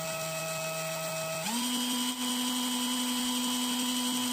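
A motor-driven 12 V electricity generator whines with a steady tonal hum that steps up to a higher pitch partway through as its speed rises, a close, continuous mechanical drone.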